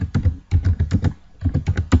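A command typed on a computer keyboard, rapid loud close clicking keystrokes in two bursts with a brief pause between them and no voices.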